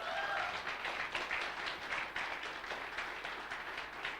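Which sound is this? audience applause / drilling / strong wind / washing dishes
audience applause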